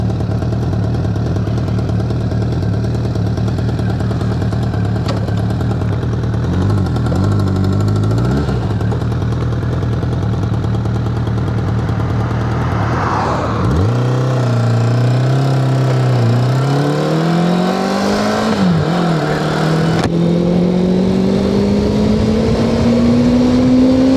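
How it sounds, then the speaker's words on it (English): A Suzuki GSX 600F motorcycle engine runs steadily up close, a low droning note that dips and then climbs as the bike pulls away and revs rise through a gear change, with strong wind rush throughout. "This is the GSX 600F that I know and love."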